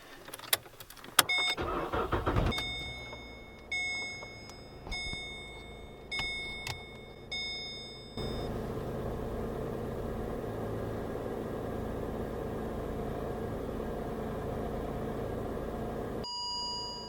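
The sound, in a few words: Holden VE Commodore engine starting and idling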